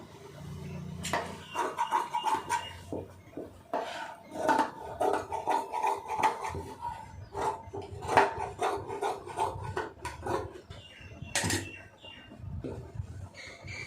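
Scissors cutting blouse lining fabric together with the main piece, a series of crisp snipping and rustling strokes close by, no talk during the cuts.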